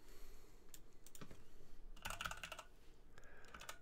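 Keys clack on a computer keyboard as a terminal command is typed, faint scattered taps with a quick burst of keystrokes in the middle, close and quiet with no talk.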